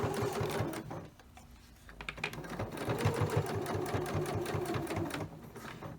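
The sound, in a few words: sewing machine top stitching a cloth diaper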